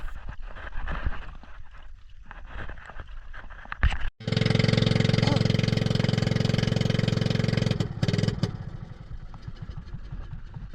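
A small boat's engine, just repaired after dying at sea during a spearfishing outing, starts up and runs loud and steady for several seconds, then cuts out, with rough clattering and wind around it.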